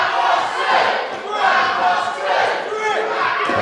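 A wrestling crowd jeers and shouts at a team, a loud roaring mass of voices that swells and dips in waves.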